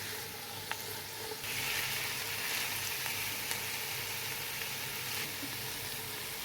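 Vegetables cooking in a pan for boiled rice, a steady close sizzle and hiss with a few faint clinks of stirring, continuous and unbroken, no speech.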